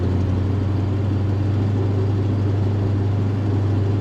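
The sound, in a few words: 1967 Dodge Dart car engine while driving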